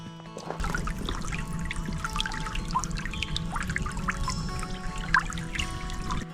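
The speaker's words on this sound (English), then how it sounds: "This is the crick." A small creek on Michigan hunting land runs with a close, continuous trickling and babbling of water, steady and fairly soft, with no talking over it.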